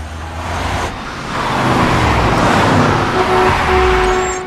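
Car crash and flip in The Wolf Among Us, a loud rumbling engine and roadway roar that swells after the first second and holds steady, with a brief thud near the start and no speech.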